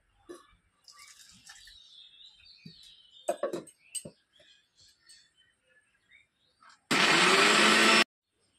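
A blender grinds mung dal and semolina into a paste in one loud, steady whir lasting about a second near the end, after scattered quieter kitchen noises and chirpy sounds.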